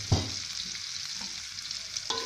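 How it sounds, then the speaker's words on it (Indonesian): Spice paste being stir-fried in a pan for young papaya oseng, with a steady sizzle and scraping stir strokes at close range, a louder clatter near the start and another near the end. "Kita tumis sampai mengeluarkan aroma harum."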